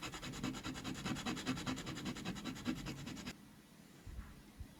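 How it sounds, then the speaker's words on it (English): Fine sandpaper rubs the back of small wheels from a custom Ford Cortina restoration, a faint rapid rhythmic scratching for about three seconds before it stops and quiet handling follows. "I just use some fine sandpaper and gently rub the back of those wheels on there"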